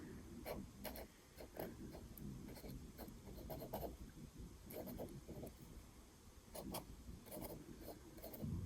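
A 0.8 pen writing in a planner, soft scratchy strokes in short bursts with brief pauses between words, quiet and close, no one speaking.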